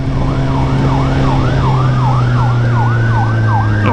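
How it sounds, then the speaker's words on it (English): An ambulance siren wails in a rapid repeating yelp, loud and steady with the low drone of the vehicle's engine beneath, sounding close as it passes. "this ambulance is an annoyance"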